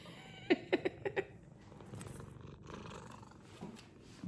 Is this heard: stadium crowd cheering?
no